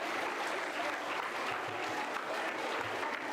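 Steady audience applause fills a school hall during an author interaction event, a dense, continuous clapping from many hands at even loudness throughout, with no talk over it.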